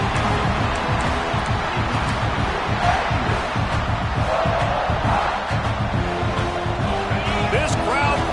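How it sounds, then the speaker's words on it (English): A stadium crowd roars steadily at a Miami vs South Carolina football game, a loud sustained wall of noise with an announcer talking over it. "This crowd bringing the energy and noise early."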